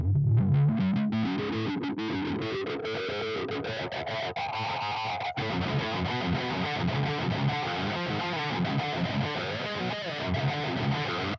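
Heavily distorted electric guitar plays a dense, sustained metal riff with chugging chords, loud and close, with no voices.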